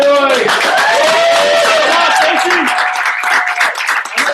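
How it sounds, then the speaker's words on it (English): An audience at a company celebration cheers and applauds loudly, the clapping and whoops blending with raised voices before thinning out toward the end. "Cheer for Stacy and Roy"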